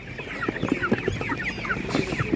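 Broiler chickens cluck repeatedly at a poultry market on a hot day, short close clucks and squawks arriving in an uneven run over a background of market murmur.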